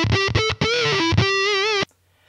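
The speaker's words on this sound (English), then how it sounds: "It's got a built-in fuzz, a really cool clippy fuzz." Electric guitar run through a theremin pedal's built-in clippy fuzz, giving a loud, buzzy, distorted tone with sustained wavering notes and a few short plucked phrases, alone, ending abruptly.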